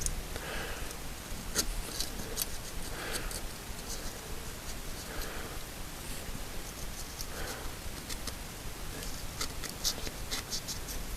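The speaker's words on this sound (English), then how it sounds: "I'm just going to clean the crowns of these pistons. Using my trusty blade." A blade scrapes carbon off metal piston crowns in slow, rhythmic strokes, close up, with faint ticks and rasping between passes.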